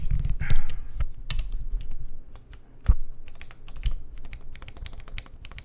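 Keys clack on a Dark Ex Ecliptica mechanical keyboard with Cherry switches, close and crisp, in irregular bursts of rapid keystrokes separated by short pauses.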